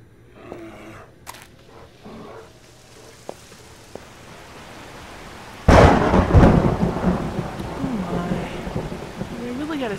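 In the zombie survival game 7 Days to Die, quiet ambient game sounds with a few sharp clicks give way to a sudden loud thunderclap that rolls on with heavy rain and rumbling.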